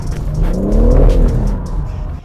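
A BMW M3 or M4 engine revs up and down close by at a driving center, with a rising and falling whine as the car drifts, briefly and loudly.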